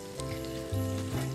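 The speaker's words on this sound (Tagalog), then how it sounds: "ready na tayo para i-fry ang ating hot dogs" Hot dogs sizzle and crackle in a hot pan, a steady frying hiss with a low hum underneath.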